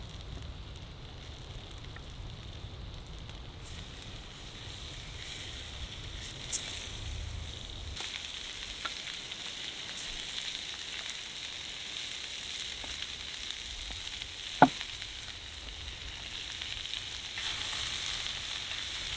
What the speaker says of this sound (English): that's actually searing already, which is nearly impossible on a gas burner